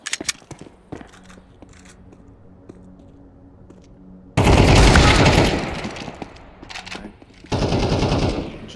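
Automatic AK rifle fire in Counter-Strike, a loud sustained burst followed by a second long volley, with sparse clicks and light keyboard tapping between them.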